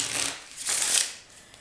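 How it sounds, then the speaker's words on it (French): A deck of playing cards is shuffled quickly in the hands without a table during a card-magic demonstration, making a loud, close ripple of riffling with two swelling bursts that fade out. "Bon, je mélange très rapidement. Sans table."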